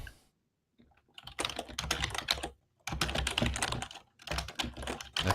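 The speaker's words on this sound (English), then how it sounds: "I can hear you typing now." Rapid bursts of typing on a computer keyboard come close and clear, clattering in uneven runs separated by short pauses.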